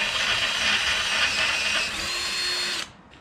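Power drill opening up an 11/32 hole in metal for a flood light mount, a steady high-pitched whir of about three seconds that cuts off abruptly, close and loud.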